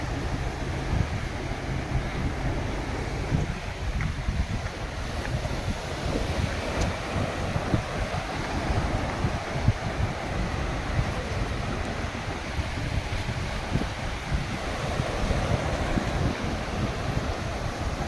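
Steady wind roars across the microphone on a Puducherry beach, with the broad wash of surf rolling in underneath, continuous and fairly loud with no voices.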